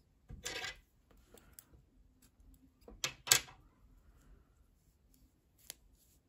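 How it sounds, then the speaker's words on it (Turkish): Scissors snip through yarn after finishing a knitted hat: a couple of sharp, close metallic cuts amid light handling rustle in a quiet room. "İpliği kesiyorum."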